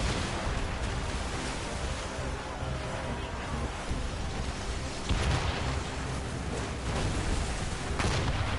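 Ship cannons boom across a naval battle in Assassin's Creed Rogue, dense repeated blasts over a constant roar of sea and wind, with heavier thumps near the end.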